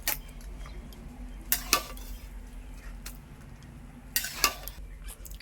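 Cooked breakfast food scraped from a pan onto a metal plate, with a few sharp clinks and scrapes of utensil on metal over a quiet room hum.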